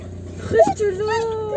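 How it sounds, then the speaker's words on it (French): A dog whimpers and yips in a car on the way to the vet, with high, wavering whines that rise and slide over a steady low engine hum inside the vehicle. "comme vous pouvez l'entendre, j'emmène mon chien chez le veto. Donc, il déteste la voiture."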